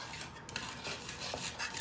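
A knife smashes and scrapes garlic with salt on a cutting board, giving soft, close taps and scraping sounds against a quiet kitchen background, with no voices.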